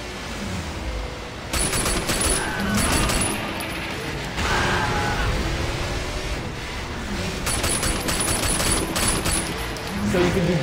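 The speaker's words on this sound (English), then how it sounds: "Driving down the highway at high speeds while also shooting exploding cars around you" Driving down a highway at high speed in a video game while shooting at exploding cars, heard as a dense wash of engine roar, rapid gunfire bursts and mechanical clatter, loud and continuous.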